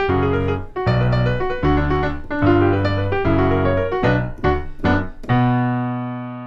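A brisk melodic phrase played on piano, notes ringing clearly in quick succession, ending on a sustained chord that slowly fades.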